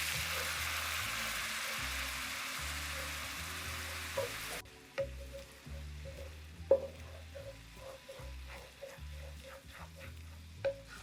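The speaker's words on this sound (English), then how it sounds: "I'm gonna add a little bit of bone broth so that we can release all those wonderful brown bits from the bottom of the pan" Bone broth poured into a hot pan with butter and browned bits sends up a loud, hissing sizzle for about four seconds. It then settles into a quieter bubbling with occasional sharp clicks of stirring.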